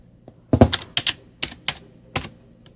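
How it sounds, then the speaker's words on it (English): Five or six distinct keystrokes on a computer keyboard spelling out a short command on an HP computer, crisp and close with uneven spacing, and no voices. "just typing exit"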